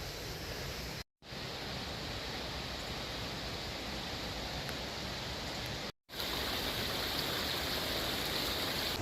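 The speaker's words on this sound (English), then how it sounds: "Sound of waterfall for sure." Steady broadband rushing of a waterfall near a trail and small beach, continuous and fairly loud throughout with two very brief dropouts, no voices.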